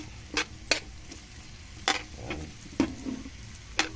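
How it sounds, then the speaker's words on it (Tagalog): Live alimasag crab sautéing in a pan, a soft steady sizzle broken by several sharp, close scraping clinks of a spatula stirring against the metal. "Gisahin natin muna yung ating alimasag"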